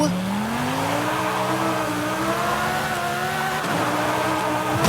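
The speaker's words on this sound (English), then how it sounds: "this car is powered by a V10 engine" A twin-turbo V10 car engine in the Forza Horizon 5 video game revs up steadily as it pulls through the gears, loud and close, with a brief dip and renewed climb near the end and no talking.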